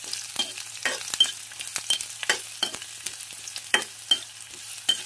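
Onion and ginger fry in a pan with a soft sizzle, broken by repeated scraping stirs and clinks of the utensil, close and fairly quiet.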